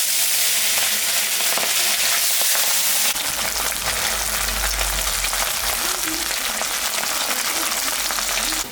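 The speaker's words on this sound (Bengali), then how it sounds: "আমি এখন মাছটা ভাজিয়ে দিচ্ছি।" Pabda fish frying in hot oil for a light kalojira curry: a loud, continuous close-up sizzle and crackle that grows rougher partway through, with no talking.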